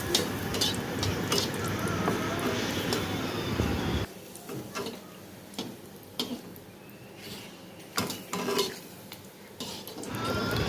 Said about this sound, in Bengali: আর কড়াইয়ের মধ্যে তেল দিয়ে দিয়েছি পাঁপড় ভাজা করার জন্য। এবার আমি একে একে পাঁপড়গুলো দিয়ে দিই।